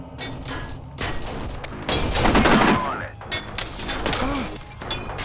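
Several loud bursts of gunfire in the Kane & Lynch: Dead Men game, with crashing impacts and shattering debris, under shouted voices.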